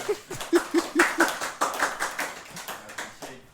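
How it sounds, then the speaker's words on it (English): Audience clapping at a talk on influence and manipulation: a handful of distinct claps, some spaced and some in quick runs, with a few faint voices and light laughter mixed in, sounding fairly near. "So clap if you know."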